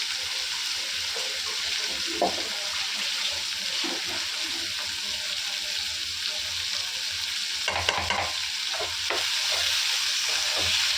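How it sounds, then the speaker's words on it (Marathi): Chillies, onion and garlic fry in hot oil, giving a continuous broad hiss of sizzling that runs the whole time, with a few faint clinks of stirring near the end. "मिरची, कांदा आणि लसूण आपण फ्राय करणार आहोत"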